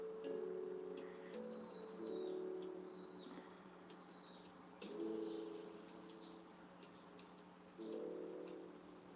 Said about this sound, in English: Okay, there's like a bird screaming out there.